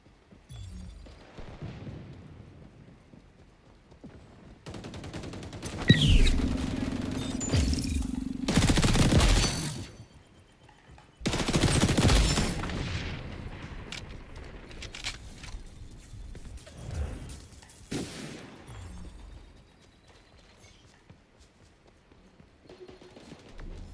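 Bursts of gunfire from the online shooter XDefiant, an MP5A2 submachine gun among the weapons, come in a few loud, dense clusters separated by quieter stretches of match ambience.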